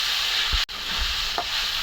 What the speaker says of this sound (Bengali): সিমের বেশি দিয়ে ট্যাংরা মাছ রান্না করতেছি।